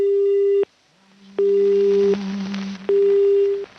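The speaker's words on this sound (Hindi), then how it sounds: "फ़ोन डिस्कनेक्ट हो गया है" A telephone line tone from a disconnected radio call-in: steady beeping pulses with short gaps, loud and close, over a faint low background hum.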